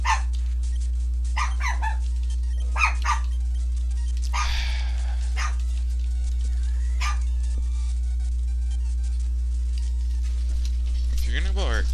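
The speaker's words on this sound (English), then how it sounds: "Why are you barking?" A dog barks in short, scattered bursts over several seconds, indoors against a steady low hum, with a person speaking now and then in between.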